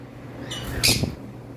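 A pineapple yellow-sided conure gives a single sharp, harsh squawk close by, with a couple of softer chirps around it over a quiet background.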